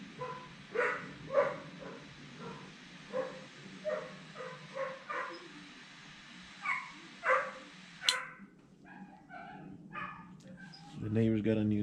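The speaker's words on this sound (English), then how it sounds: "The neighbor's got a new dog and barks at everybody." A neighbor's young rescue dog barks repeatedly at a distance from a home garage, short sharp barks in irregular bursts, followed by a brief higher yip and a low hum at the end.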